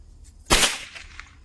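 A single sharp crack from a Bijili firecracker bursts close by, a short loud bang that trails off quickly into faint background noise.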